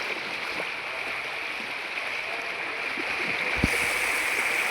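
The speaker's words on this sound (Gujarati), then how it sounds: "કેટલું પાણી આવે છે અહીંયા" Floodwater from heavy rain rushes over a village road, a steady broad hiss and gurgle with occasional splashes, continuous and fairly close, with no talk.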